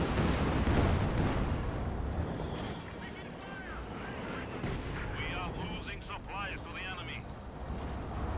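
Panzer artillery barrage shells landing in Company of Heroes 2, booming blasts and rumbling impacts with a few sharp pops, heard under steady talking.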